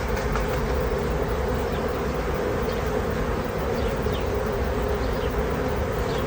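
A honey bee swarm at a hotel doorway produces a dense, continuous buzzing drone that is loud and close throughout, with no speech.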